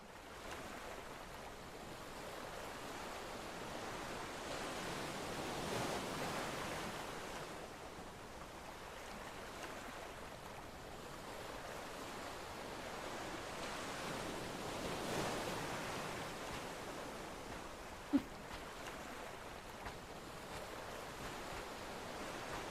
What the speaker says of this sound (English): Ocean has such constant noise that